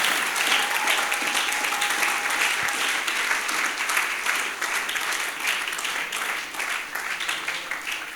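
A church congregation breaks into sustained applause, dense clapping that swells and holds steady, with faint voices mixed in beneath it.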